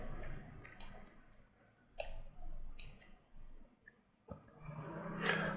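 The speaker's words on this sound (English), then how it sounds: "by right clicking on your mouse." A computer mouse is clicked while a Photoshop flyer is edited, sharp isolated clicks spaced irregularly over a quiet room hum, with a few louder taps near the end.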